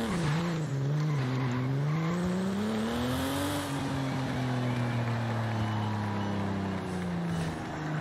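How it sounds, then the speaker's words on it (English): A car in Forza Horizon 5 drives hard with a loud, continuous engine note that rises and falls through gear changes, and a faint tire squeal runs under the engine. "let's start with getting the game to recognize that I'm actually driving the car"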